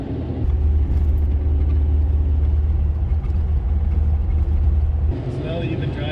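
Retuned beater car engine pulling at partial throttle while driving, a steady loud low drone with road rumble throughout, easing slightly near the end, with people talking in the cabin.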